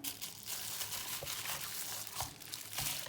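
Continuous crinkling of plastic freezer bags holding frozen eggplant being handled, a busy rustling texture with occasional sharper crackles, close by and steady throughout.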